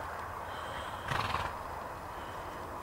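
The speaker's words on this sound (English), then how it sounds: "you probably can hear that horse in this field that I'm filming now" A horse in a grazing pasture field gives a single whinny lasting about half a second, distant and faint over quiet outdoor background noise.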